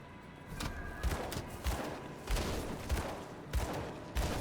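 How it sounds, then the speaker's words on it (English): Gunfire from a small gun in the video game Grim Dawn, a run of punchy, evenly spaced shots with low thumps over steady game ambience, about seven bursts in quick succession. "let's shoot our little gun at things"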